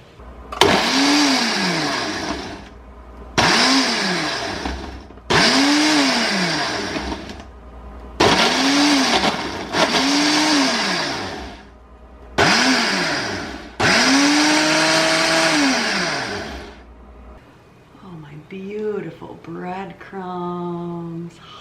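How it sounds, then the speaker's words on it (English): A Ninja blender grinds breadcrumbs with garlic powder and nutritional yeast in a run of loud, close bursts, each motor whine rising and then dropping, before a softer, uneven spin at the end. "let's grind this up"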